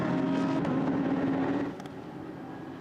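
An orange and purple Proton Huber Competition Porsche, number 73, races past on the Paul Ricard circuit during a 12-hour endurance race, its engine a sustained roar that rises and then drops away as it passes.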